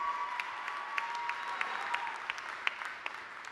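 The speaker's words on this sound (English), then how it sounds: "They're cheering because that means you have a job, Andrew." Graduation crowd at a university commencement applauding steadily, a dense wash of clapping with scattered sharper claps and faint cheers throughout, moderately distant.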